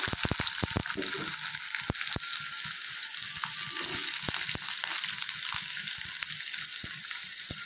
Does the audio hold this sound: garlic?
yes